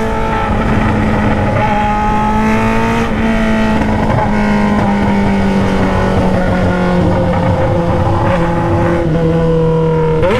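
A Honda Hornet motorcycle with a 3-inch Atalla 4x1 straight-pipe exhaust roars loudly and steadily throughout. The revs rise and fall in close, continuous engine harmonics with no talking.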